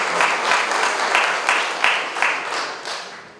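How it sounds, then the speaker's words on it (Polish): Audience at a municipal Senior Day event applauds a seniors' choir, producing full, close clapping with a few swelling surges, thinning slightly toward the end. "Nagrodźmy Państwa oklaskami."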